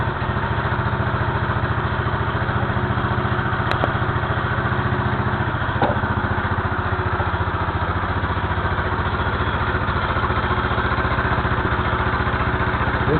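Motorized bicycle engine running steadily on a repair rack, a dense buzzing two-stroke drone at constant speed, close and continuous with faint rattles.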